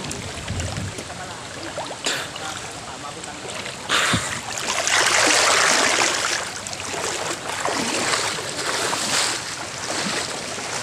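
Steady rushing river water flows throughout, swelling louder midway, with wind-like hiss and a few soft splashes; a voice speaks briefly near the start.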